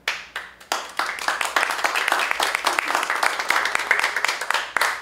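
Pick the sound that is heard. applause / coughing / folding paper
applause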